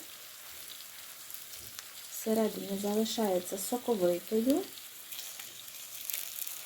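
Steady sizzling of liver frying in a pan runs throughout, briefly overlaid by someone speaking in the middle.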